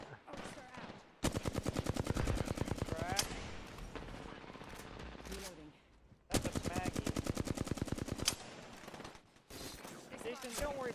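Automatic gunfire in the Apex Legends video game, with rapid sustained bursts of shots in three separate volleys, loud and close, while players talk over it between bursts.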